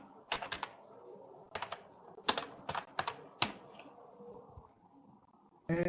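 Typing on a computer keyboard while coding a calculator in code.org: bursts of several quick key clicks in separate clusters, close and moderately loud, with no talk.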